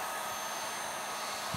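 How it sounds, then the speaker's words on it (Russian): A Hyundai H 2200 Expert heat gun blows steadily, a continuous airy hiss with a low motor hum, close and even throughout with no pauses. "Вот такой вот фен."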